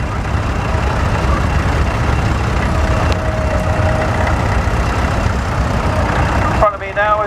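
A small vintage grey Ferguson tractor engine runs at a steady low idle, close by, with a voice briefly starting at the end.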